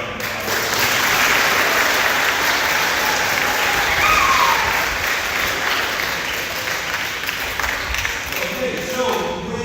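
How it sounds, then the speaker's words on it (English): An audience at a 7th and 8th grade school awards program applauds its teachers, a dense, sustained burst of many hands clapping that swells and then slowly fades, filling the room. "So let's give them a round of applause."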